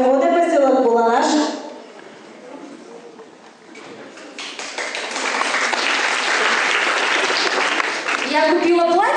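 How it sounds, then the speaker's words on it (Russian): Someone speaks, then loud, stormy applause from the audience at a KVN comedy contest in Tavda swells and holds for several seconds before another voice returns. "Бурные аплодисменты."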